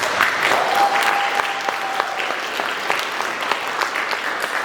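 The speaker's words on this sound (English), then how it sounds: "Round of applause." Applause from a student audience at a high school career panel, a steady dense clapping wash lasting several seconds, near and fairly loud, with a faint tone briefly underneath.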